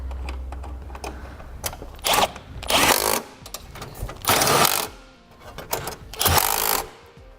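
Hardware bolts are driven back in to hold a car's bumper cover while a Roadmaster crossbar-style base plate is fitted to a 2016 vehicle, giving four loud, buzzing mechanical bursts of a second or less between quieter clicks and handling noise.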